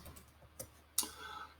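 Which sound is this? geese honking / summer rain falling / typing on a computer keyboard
typing on a computer keyboard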